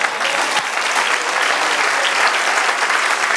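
A church congregation applauds during a sermon with full, steady clapping that stays dense and loud from start to finish, with no voice over it.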